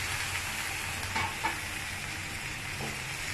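Green tomatoes cut into large chunks tossed into a hot pan with oil and spices, giving a steady close sizzle with a few soft scraping stirs over the frying hiss.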